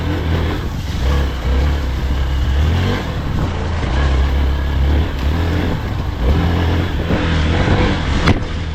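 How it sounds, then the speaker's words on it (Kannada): An off-road car engine revs hard and steadily while its wheels spin, a loud continuous roar with low rumble and gritty rushing noise throughout, ending with a brief sharp scrape. "ಆ್ಯಕ್ಚುಲಿ ತುಂಬಾ ವೀಲ್ ಸ್ಪಿನ್ ಆಗುತ್ತೆ"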